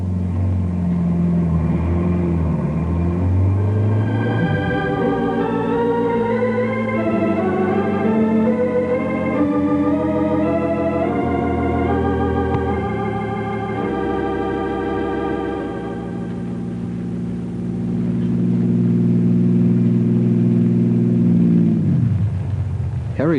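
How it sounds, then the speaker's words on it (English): A car in a radio drama accelerates down the road, its engine revving up through rising gear tones before easing off into a steady lower hum, then swelling louder again near the end, with no speech. "Harry drives the car a half-mile down the road."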